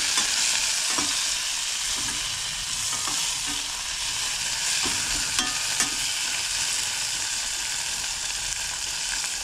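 Tomatoes are sautéed over already-softened onions in a pan for a village-style curry, with salt added. A steady, close sizzle of frying runs throughout, broken by occasional scrapes and knocks of stirring. No one talks.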